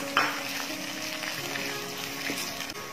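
Fresh tomatoes are stirred into a hot frying pan for fu yung hai, giving a steady, close sizzle with a brief clatter of the utensil near the start, and no talking.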